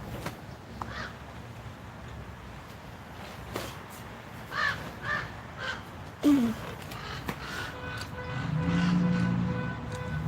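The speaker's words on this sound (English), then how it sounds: "Listen to that crow." A crow caws outdoors during a casual livestream, a few separate harsh calls at moderate distance over low background noise.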